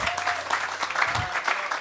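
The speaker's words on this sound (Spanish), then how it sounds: "Denle un aplauso al Señor" A church congregation applauds the Lord, steady dense clapping from a crowd filling the whole stretch, with faint voices mixed underneath.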